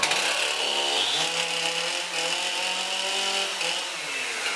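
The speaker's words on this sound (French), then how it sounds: "on en a coupé un petit morceau à la tronçonneuse" A chainsaw whines steadily at close range, its pitch dipping and rising as it bites through a wooden beam, with no talking.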